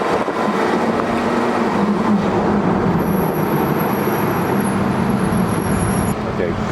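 A Porsche Carrera GT with a manual gearbox drives on a road, giving a continuous loud engine drone and road rumble, with voices talking over it throughout.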